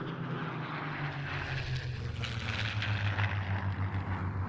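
A P-51D Mustang and a Spitfire PR-19 from the Rolls-Royce Heritage Flight fly together at an airshow, their piston engines and propellers giving a steady, rumbling drone that grows slightly louder as they pass, with no voices.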